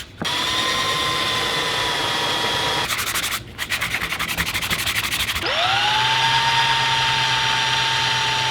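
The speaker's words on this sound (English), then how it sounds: "Then came all the drilling of holes." A power drill whines at high pitch, then bites in with a rough grinding burst before spinning back up, loud and close, drilling holes in parts for a pizza pan pendant light.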